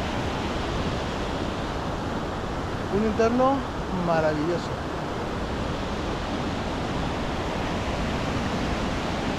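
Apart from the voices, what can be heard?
river flowing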